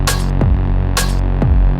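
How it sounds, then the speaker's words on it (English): Electronic kick and snare groove in a future garage track, with deep booming kicks and bright crisp snare hits in a steady, sparse two-step pattern over a low sustained bed, loud and close. "And then we move up to the kick and snare groove,"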